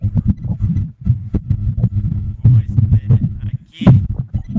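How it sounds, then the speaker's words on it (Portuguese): An electric fan near a phone microphone produces a steady low throbbing hum with rhythmic pulsing thumps, continuous and fairly loud throughout, overlaid with faint muffled voice fragments. "tu tem um ventilador perto do telefone?"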